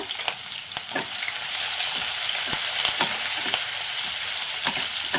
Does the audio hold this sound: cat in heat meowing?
no